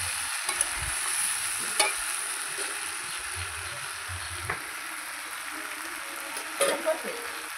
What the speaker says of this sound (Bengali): কুমড়োটা আর একটু ভালো করে নাড়াচাড়া করে নেব।